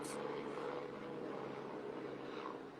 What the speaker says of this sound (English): Sorry, helicopter.